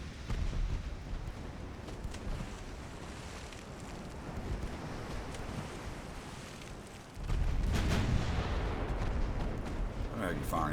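Naval guns boom from ships in an 1890 battle in Ultimate Admiral: Dreadnoughts, with the Kingdom of Italy fleet in action. A louder rumbling salvo arrives late over a constant roar of wind and sea, with talk throughout.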